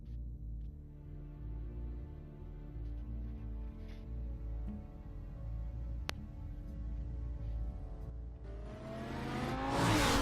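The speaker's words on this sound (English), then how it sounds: "I've got a sports car." A sports car engine from Batman: The Telltale Series hums and rumbles steadily, then rises into a louder rev and whoosh near the end.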